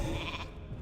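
A short, wavering sheep bleat from a polymorph spell in World of Warcraft Classic sounds over a dense layer of game noise, steady and fairly loud throughout.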